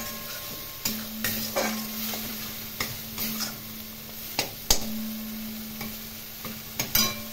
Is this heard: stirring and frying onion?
yes